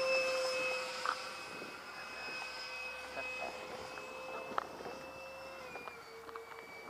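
An electric ducted-fan RC Eurofighter jet model with 360-degree vectored thrust comes in to land, giving a steady, moderately distant high whine with shifting tones and no break.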